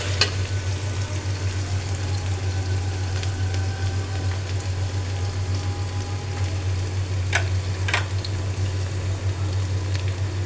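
Chopped onions fry in a pan with a constant, dense sizzle that runs unbroken throughout, plus a couple of sharp clinks from a stirring spoon near the end.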